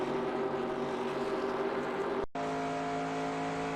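A race car engine in NASCAR Racing 2002 at Michigan Speedway holds a steady high-revving drone at full speed, with a brief dropout before the same engine tone resumes.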